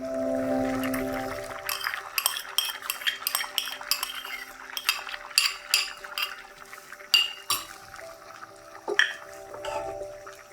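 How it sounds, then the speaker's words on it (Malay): Shrimp, dried tofu and glass vermicelli tipped into a cooking pot for Johor-style vegetable lodeh, with close clinks of utensils against the pot, scraping, and a faint sizzle and bubbling in a quiet kitchen. "Dan kita juga masukkan sekali tahu kering dan suun."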